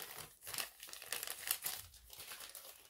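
Crinkly plastic item from a bag being folded by hand, a close, continuous run of crackling and crumpling with brief sharp crinkle bursts and no speech.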